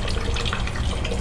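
Water runs steadily from a ship's drinking fountain as the tank is drained, a close, loud, continuous splashing rush with no talking.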